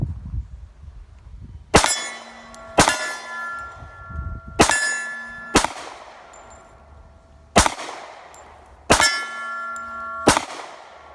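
Sharp, ringing pistol shots from a compact Rock Island Tactical 1911 in .45 ACP fired at soda bottles outdoors, six loud reports spaced about a second apart, each with a bright metallic clang trailing after.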